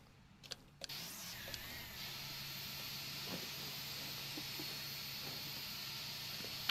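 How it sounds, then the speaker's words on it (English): Second jet engine of an airliner spooling up during a Prepar3D flight simulation, a few clicks and a whine at first, then a steady hissing, rising roar that holds at an even level. "we can start engine 2 now"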